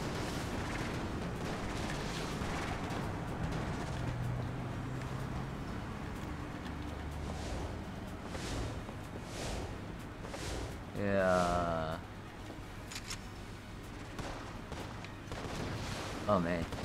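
Guns in Enter the Gungeon fire in rapid, scattered bursts with game sound effects, while a player talks over the action.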